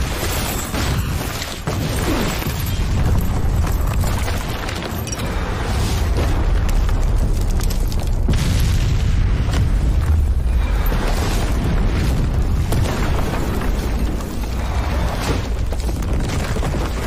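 Bombs go off in a video game as a dense, continuous barrage of loud, booming blasts and rumbling, sustained at high volume for the whole stretch without a break.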